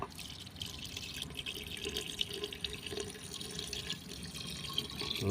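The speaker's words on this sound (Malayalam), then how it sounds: "ഇതിലേക്ക് ഒരു അര ലിറ്റർ ഗോമൂത്രം ഒഴിക്കുക" Cow urine pours steadily into a container nearby, a continuous trickling splash with faint dripping, and no one speaking.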